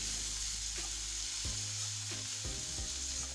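Beetroot and leafy greens fried rice sizzling steadily in a pan, with a few soft stirring scrapes at intervals and no voices over the continuous hiss.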